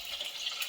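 Dried chillies and cumin sizzling in hot oil, a steady close crackling hiss with faint popping, brief and even in level.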